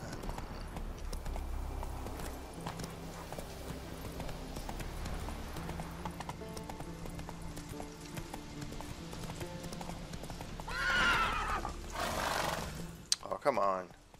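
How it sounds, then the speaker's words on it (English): A horse gallops with steady, rhythmic hoofbeats through The Witcher 3, loud and close, before a burst of louder game sounds and a short voice near the end. "Run, Roach. Run to the wind, Roach"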